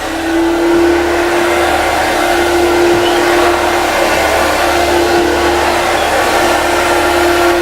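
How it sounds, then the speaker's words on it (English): An iVo Steam Tekna floor cleaner runs its vacuum with a loud, steady motor whine and airy rush close by, holding constant with no one speaking. "Now if I turn the vacuum on,"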